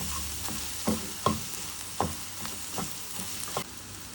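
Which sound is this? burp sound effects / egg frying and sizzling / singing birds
egg frying and sizzling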